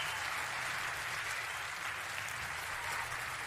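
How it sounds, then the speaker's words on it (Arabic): An audience applauds a poet's recitation on a live poetry show, with steady, dense clapping that holds at an even level for the whole stretch. "هذا الجمهور الجميل لا ما يصفق عبث، يصفق الإبداع"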